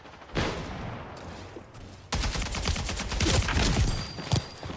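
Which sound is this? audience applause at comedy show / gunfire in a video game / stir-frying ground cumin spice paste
gunfire in a video game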